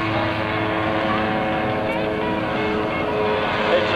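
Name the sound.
ultralight aircraft with weed whacker engine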